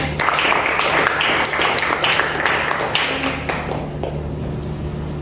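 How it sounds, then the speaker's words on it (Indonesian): Students in a classroom guidance session clap for a presenting group, a brisk, fairly loud patter of hands with a steady low hum underneath that slowly tapers off. "tepuk tangan buat kelompok E"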